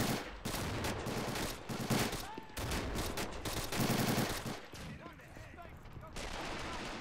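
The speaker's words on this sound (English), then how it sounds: "Rangers laying down some M1 Garand fire." M1 Garand rifles fire in a Pointe du Hoc World War II video game battle, with rapid overlapping gunshots and bursts of volley fire cracking loudly and almost continuously, mixed with distant battlefield noise.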